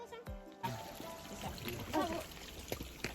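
Water trickles and pours at the Kawah Ratu volcanic crater, a soft continuous splashing close by, with people talking over it.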